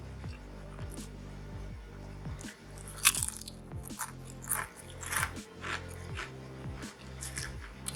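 Crab rangoons being bitten and chewed close to the mic, a steady run of crisp crunches with sharper bites standing out, lasting throughout with no talking.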